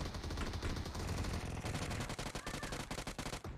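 AKM rifle fire in PUBG Mobile rattles out in dense, rapid automatic bursts, loud and sustained across the clip.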